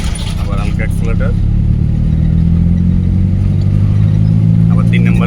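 A car engine during a driving lesson, droning steadily and rising slightly as the accelerator is eased on in second gear, heard close and loud beneath an instructor's continuous talk.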